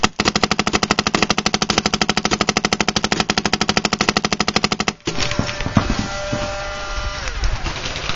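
Rapid automatic gunfire at a bunker and hay bale during an outdoor mock battle, a dense steady burst of loud shots lasting about five seconds, then stopping abruptly into rustling and scattered movement.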